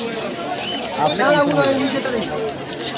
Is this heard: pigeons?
yes